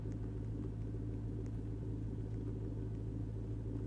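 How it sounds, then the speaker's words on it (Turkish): A steady low engine rumble from a taxi arriving outside a hotel at night, constant and muffled throughout, with no voices. "Araba sesi geliyor."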